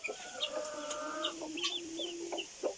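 A rooster calls hens over to food with repeated clucking and tidbitting notes, close and clear, while hens cluck nearby and another bird chirps intermittently in the background.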